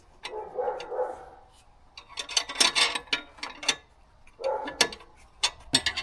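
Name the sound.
spanner tightening bolt on MR2 engine swap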